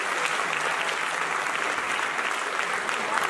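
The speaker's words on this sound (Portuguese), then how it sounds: "palmas pra ele" A studio audience at a comedy roast awards show claps steadily and loudly, a dense, even wash of applause that holds from start to finish with no pauses.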